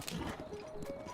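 Horse hooves clip-clopping in Zelda: Breath of the Wild, a short run of soft, steady hoofbeats, faint and close, with a little game ambience underneath.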